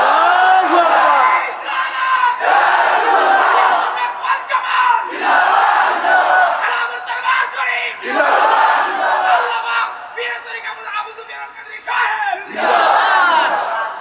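A large crowd roars out the takbir slogan in loud, repeated surging bursts, voices chanting together in rhythmic waves with short pauses between each shout.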